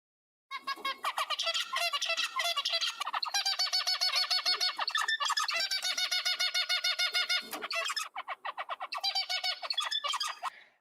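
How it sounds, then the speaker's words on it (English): A small bird sings a rapid, buzzy, repetitive song of nasal chirps and squeaks, continuous and close, with a brief pause partway through. "now take the sound of this zebra finch"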